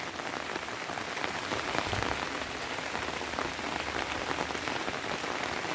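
Steady heavy rain pours down on surfaces by paddy fields, a dense continuous hiss with no pauses throughout.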